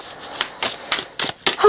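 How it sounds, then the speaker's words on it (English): Tarot cards are shuffled by hand in a series of quick, papery riffling bursts at an uneven rhythm, close and fairly soft, with no talking. "give these a good shuffle"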